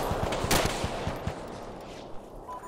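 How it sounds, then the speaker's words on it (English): Machine gun fire in the military game ArmA II, with a quick rhythmic string of mid-distance shots and one sharper crack, fading into a lingering echoing rumble. "We've got machine gun positions firing down on us."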